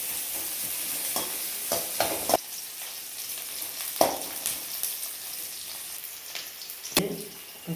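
Chopped onions sizzle and fry in a pan for an Orla kalangu and murungakkai kuzhambu dish, a steady crackle broken by several sharp scraping stirs of a utensil.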